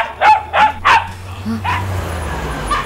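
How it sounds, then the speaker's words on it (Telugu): A dog barks three times in quick succession, close and sharp, followed by a softer yelp and a faint whine as the barking trails off. "కుక్క అరుస్తోంది"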